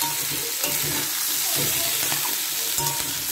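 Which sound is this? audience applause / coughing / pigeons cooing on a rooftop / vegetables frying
vegetables frying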